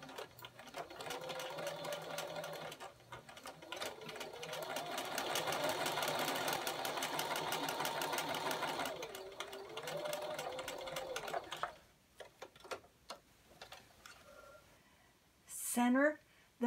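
A sewing machine edge stitches fabric close to the fold for a nine patch pillow, running steadily and up close for about eleven seconds before stopping, followed by quieter handling noises and a brief sharp sound.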